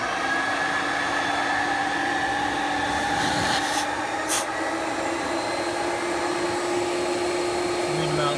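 A Sandia Sniper portable carpet extractor, a standard dual two-stage unit, runs its vacuum motor with a loud, constant roaring whine from start to finish, with brief hissing bursts partway through.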